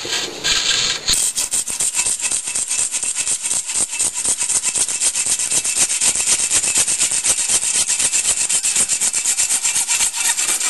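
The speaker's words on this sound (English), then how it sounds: "I'm going to make the first cut in the PVC." A hand saw cuts through PVC pipe clamped in a vise, loud rhythmic back-and-forth rasping strokes repeating steadily and close up, with no talking.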